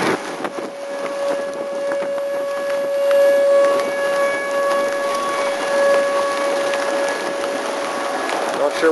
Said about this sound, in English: Sirens are sounding here in Ainsworth.